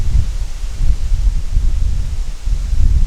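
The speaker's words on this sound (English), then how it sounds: "it is so windy right now." Strong wind buffets the microphone in a steady low roar, swelling and dipping in gusts throughout.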